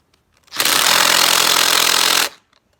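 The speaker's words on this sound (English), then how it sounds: "I got my drill" Power drill on a car's swaybar end link, a single loud, close burst of harsh whirring and rattling lasting under two seconds, with faint knocks before and after.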